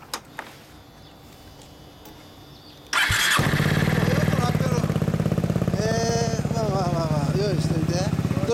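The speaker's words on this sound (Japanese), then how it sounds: "ごめん、エンジン音聞かせてもらえる。" Yamaha Maxam CP250 (SG21J) scooter fitted with an aftermarket MAC-MRD exhaust starts abruptly after near-quiet, then settles into a loud, steady, throbbing idle up close, with a few brief faint clicks beforehand.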